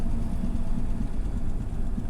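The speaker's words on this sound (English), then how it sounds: "It's not unnecessary noise, because you can hear the engine very good." A 1983 Mercedes-Benz W123 250 engine rumbles steadily at idle with no muffler, a deep throaty exhaust drone, loud and close with no talking.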